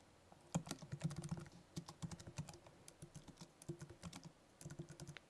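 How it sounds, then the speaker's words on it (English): Rapid keystrokes clatter on a Mac computer keyboard, a quiet, dense run of irregular taps with brief pauses, close and unaccompanied by voices. "And then type in something."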